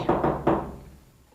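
Three quick hammer blows knock on a shower mixer plumbing fixture close by, the last one ringing and fading out.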